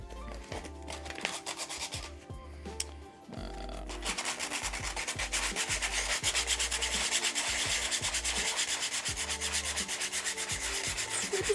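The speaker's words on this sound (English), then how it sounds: "we gotta start sanding this one down, because this one's got a lot of work on it." Sandpaper rubs a Mandalorian costume glove part, first in short scratchy strokes with brief pauses, then settling into a fast, steady, continuous rasping rhythm, close and fairly quiet.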